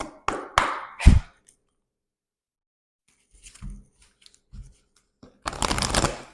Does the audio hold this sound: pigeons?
no